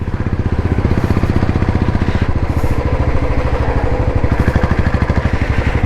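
A Royal Enfield BS6 motorcycle single-cylinder engine thumps steadily in a fast, even rhythm as the throttle is let off, loud and close, with no talking.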